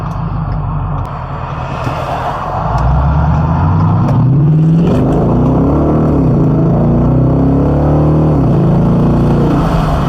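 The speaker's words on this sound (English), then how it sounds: "let's see how this accelerates though." A 2017 Ford Mustang GT V8 accelerating hard: a loud, close engine note that swells after two seconds and climbs steadily in pitch through the gears, with brief dips at shifts and no talking.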